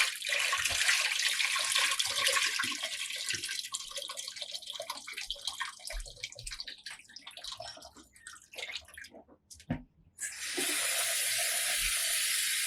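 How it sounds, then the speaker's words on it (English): Rinse water from three cups of brown rice pours off from a container into a sink, a loud continuous broadband splash that thins to trickles and drips near the end before a steady gush resumes. "I'm gonna throw off the water."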